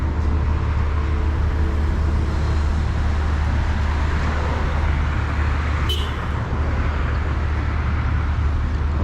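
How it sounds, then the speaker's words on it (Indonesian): Old vintage car passing on a busy city street in Nagoya, Batam on a morning, heard within steady traffic rumble, with a brief sharp hiss near the end. "mobil zaman dulu nih."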